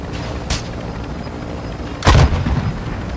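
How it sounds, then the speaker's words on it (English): Gunfire in the video game Warzone 2.0, with a sharp shot followed by a louder heavy burst, dense and booming over continuous game noise. "they're all shooting at us"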